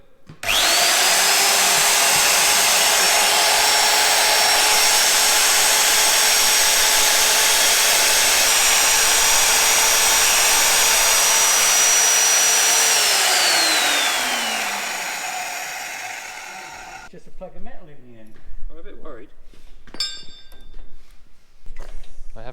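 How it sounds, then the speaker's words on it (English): A magnetic drill whines loudly and steadily for about fifteen seconds, then spins down, followed by clattering and some talk. "Mag drilling."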